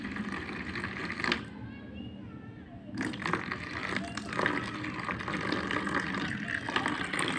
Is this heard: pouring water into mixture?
yes